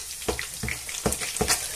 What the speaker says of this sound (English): I shouldn't use plastic to fry my eggs